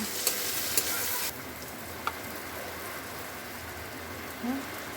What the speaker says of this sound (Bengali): ধনে গুঁড়ো, সব একসাথে নেড়ে চেড়ে নেব।